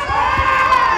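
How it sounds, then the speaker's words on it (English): Crowd noise fills the arena at a men's under-66 kg judo match at the Grand Slam Abu Dhabi 2021: a loud, continuous roar of spectators with a sustained shout riding over it. "There's a lot of crowd noise going on"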